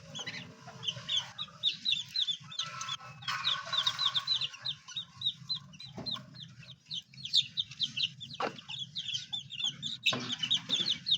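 Chicks cheep in rapid, high bursts over a low, continuous chorus of clucking chickens, close by and fairly quiet, with a few sharper knocks mixed in.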